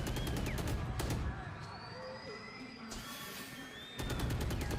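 Video-game gunfire crackles in dense bursts at the start and again near the end, with a quieter stretch of scattered noise between, while a voice talks faintly underneath.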